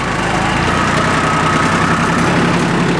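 Yanmar YM1401D diesel four-wheel-drive tractor with a heavy load on the back, its hydraulic pump straining as the relief valve blows off; a loud, steady engine drone holds without a break, with no talking.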